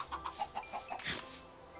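Chickens in the video game Minecraft give a quick run of about six soft, evenly spaced clucks followed by a louder squawk, close and clear.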